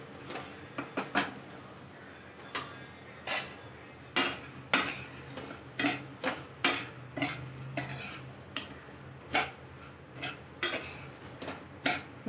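Vermicelli and vegetables tossed in a pan for shevai upma, with repeated sharp scrapes and clinks of a spoon against the metal at an irregular steady rhythm, close and fairly loud, over a faint low sizzle, and no talking.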